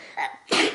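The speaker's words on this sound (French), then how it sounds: "Eh bah dis donc à tes souhaits" A single sharp sneeze bursts out close and loud after a softer inhaled build-up, with no talk over it.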